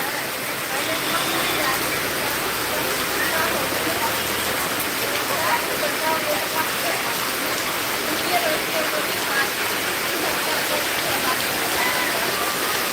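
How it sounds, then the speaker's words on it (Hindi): Heavy rain pours steadily outdoors near a Ramlila ground during Dussehra festivities, a dense, constant hiss of falling water close around with no break throughout. "बारिश ने देखिए किस तरीके से जकड़ रखा है चारों तरफ"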